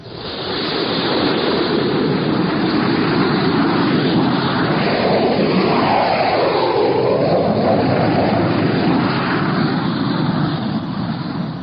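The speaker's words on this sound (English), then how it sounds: "Six jet fighters were taking off from Hink Field when Chuck Connor showed his pass" Six jet fighters taking off from an airfield, a radio drama sound effect: a loud, sustained broadband roar of jet engines swelling and shifting steadily throughout, with no voices over it.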